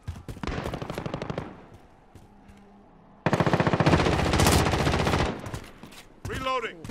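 Rapid automatic fire from an AM-94 rifle in Call of Duty: Modern Warfare rattles out in two loud sustained bursts with a quieter lull between them. A voice speaks briefly near the end.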